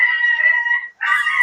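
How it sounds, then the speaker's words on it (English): A dog lets out a long, loud, tonal howl that resembles a rooster's crow, followed by a second rising cry that cuts off abruptly. "Sorry, that's my dog."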